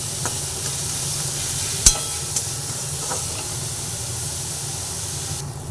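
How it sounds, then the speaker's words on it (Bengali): Onion and garlic fry in a pan with turmeric and Kashmiri chilli powder, giving a continuous close hiss and sizzle with a sharp utensil tap near the middle and faint stirring, no talk. "এরপরে পেঁয়াজ আর রসুনটাকে অল্প করে ভেজে নিই"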